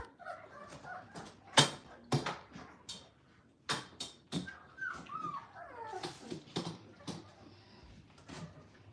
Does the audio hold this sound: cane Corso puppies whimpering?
yes